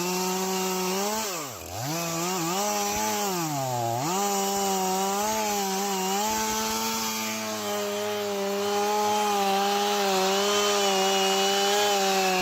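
A chainsaw cuts into a big tree, its engine droning loud and close with a strong buzzing tone that dips sharply twice under load, then holds a steady high whine while biting through the wood.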